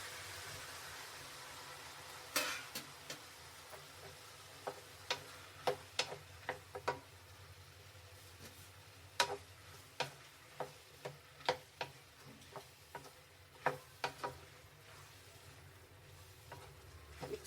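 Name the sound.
tomatoes frying in a pan with onions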